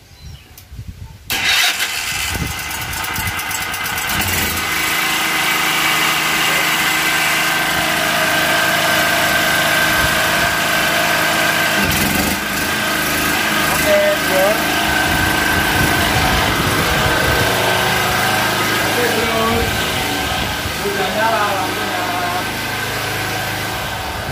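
A home generator set (genset) engine cranks and fires after a second of quiet, then runs steadily and loudly at a constant idle for the rest of the time, with a continuous mechanical drone and vibration.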